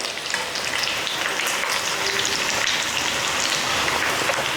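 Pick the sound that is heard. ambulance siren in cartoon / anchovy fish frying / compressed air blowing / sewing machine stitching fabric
anchovy fish frying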